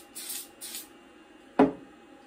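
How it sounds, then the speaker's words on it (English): Two short hissing spray bursts from an aerosol can of glue accelerator on a woodworking inlay, followed by a single brief knock or tap. "Then I'm going to spray the accelerator."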